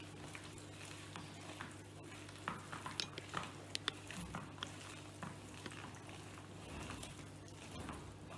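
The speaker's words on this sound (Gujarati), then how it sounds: "આમ બધો મસાલો ભેગો થઈ જાય ને ત્યાં સુધી હલાવવાનો" Spice masala mixed with a little water for Maru bhajia is stirred in a bowl or pan. Soft scraping and scattered small clicks and taps sit over a low, steady hum, all quiet and close.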